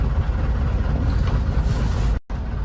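A big boat cruising on the Kerala backwaters at Alappuzha produces a loud, steady, low engine rumble with constant water and wind noise, broken by a brief dropout near the end, and no talk.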